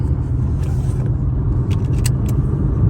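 A black Infiniti M37S with a P0304 cylinder misfire is driving on the road. Heard from inside the cabin as a steady, loud low rumble of engine and road noise with no break.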